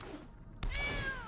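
A single cat meows once, close and clear, in a drawn-out call of about half a second after a brief quiet moment.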